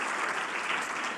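Audience applause at a copyright conference, a short steady burst of many hands clapping with no voices over it.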